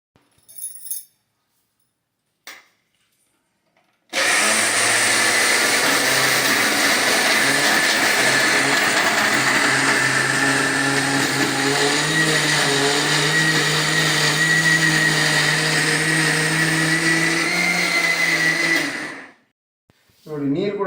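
A kitchen mixer grinder runs on dosa batter for about fifteen seconds as a loud, steady motor whine with a low grinding drone, starting and stopping abruptly, with short bursts of quieter handling or talk before and after.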